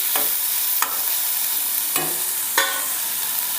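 Onions sautéing in a pan for an Andhra-style ridge gourd and lentil kootu, a loud steady sizzle cut by four separate spoon stirs spaced apart, close by, with no voices.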